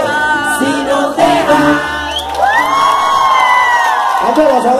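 Crowd cheering, whooping and shouting at a live mariachi performance, loud and continuous, mixed with voices and a ringing tone.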